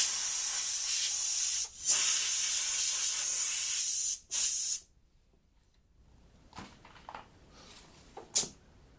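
Blow drying plastic racquetball glasses after washing off ABC dry chemical from a fire extinguisher: loud hissing air bursts of a few seconds each, then quieter intermittent puffs and handling clatter.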